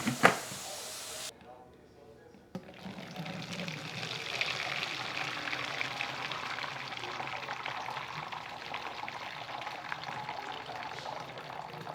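Water runs and splashes steadily while a juicer filter is rinsed out under a tap, a continuous hiss that starts after a brief quiet gap and keeps going at a moderate level.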